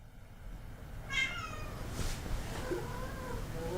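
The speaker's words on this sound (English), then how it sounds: "Don't mind the meows." A cat meows indoors, giving two or three drawn-out cries, fairly faint and close, over a low background hum with no talk.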